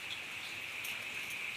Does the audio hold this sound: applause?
no